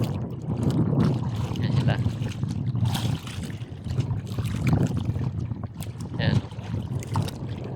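Wind and lapping water on a rough sea, with the low engine-like rumble of boats and a person talking briefly over it.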